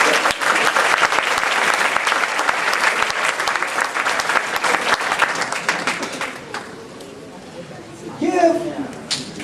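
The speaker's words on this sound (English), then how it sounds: "Give yourselves a round of applause" A large audience at a parent-student symposium claps loudly and steadily for several seconds, then the applause fades as a voice speaks over the tail end.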